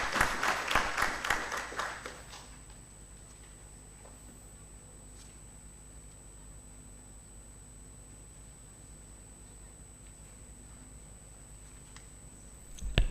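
Brief applause from a seminar audience, clattering for about two seconds before fading into a faint hiss and steady background tone in the hall.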